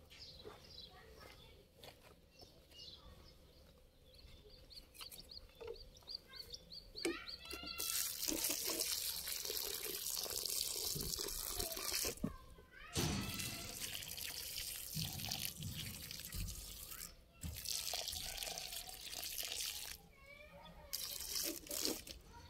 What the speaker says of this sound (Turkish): Şimdi bunlara can suyu vereceğiz.